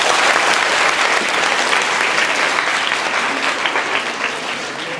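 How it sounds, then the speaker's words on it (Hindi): Audience applause at a women's college session in Balasore, India, a dense sustained clapping from a large crowd that stays steady and loud throughout, slowly easing toward the end. "ताली बजाओ"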